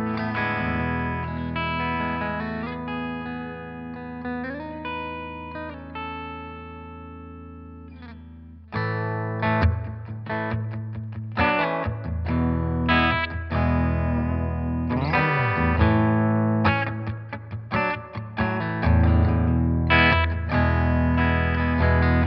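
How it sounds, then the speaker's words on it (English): Jackson American Series Virtuoso electric guitar played with gain in drop D tuning, starting with sustained distorted chords and then moving into fast, chugging palm-muted riffs with quick stops, loud and unaccompanied. "let's just go through and hear some tones on the Jackson American Series Virtuoso."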